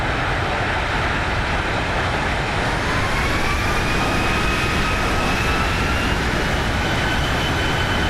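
The thrust reversers on a Boeing 737 in the X-Plane 11 flight simulator give a steady, loud roar that fills the whole stretch, with a faint whine rising slowly underneath.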